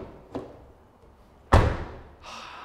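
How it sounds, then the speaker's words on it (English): The door of a 2020 Volkswagen Jetta GLI swings shut with a single solid, muffled thud, heard close and fairly quiet after a faint earlier knock, followed by a soft rustle. "This door closes like an Audi."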